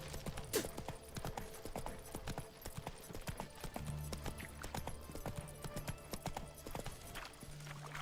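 Horse hooves clop in a steady rhythm while riding in the video game Witcher 3, fairly quiet and regular, with a short whinny near the start and low background game ambience.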